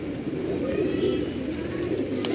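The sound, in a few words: pigeon cooing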